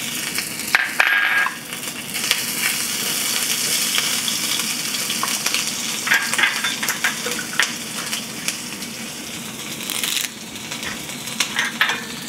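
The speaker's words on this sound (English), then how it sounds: "So first I'm going to add mustard seeds, cumin seeds, asafoetida, some grated ginger," Mustard seeds, cumin seeds, asafoetida and grated ginger sizzle and crackle steadily in hot oil, with a few stirring scrapes and small pops, close and continuous with no talking.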